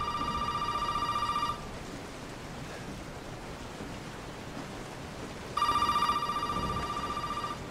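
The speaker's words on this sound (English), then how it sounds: "Why is that phone ringing?" A telephone rings in the Resident Evil 7 VR video game, playing in two bursts separated by a few seconds of quiet over a steady rain-like hiss, bright and fairly close.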